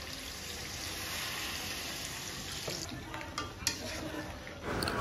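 Chicken frying in a pan with turmeric, chilli, cumin and coriander powder, giving a steady broadband sizzle throughout, with a few stirring clicks near the end.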